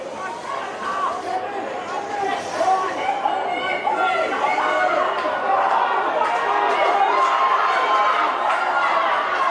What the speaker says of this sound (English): Crowd really getting involved.